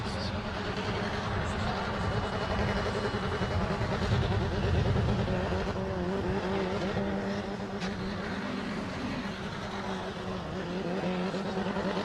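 University of Queensland petrol Formula SAE race car on an acceleration test at the 2016 Australasian event, a steady, sustained engine drone with a wavering, stuttering note that may come from tyre hop or a soft limiter, heard continuously at a distance.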